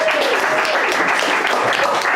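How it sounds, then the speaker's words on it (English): Audience at an open mic night clapping loudly and steadily, a dense burst of applause filling the room, with some voices mixed in. "Round of applause, please."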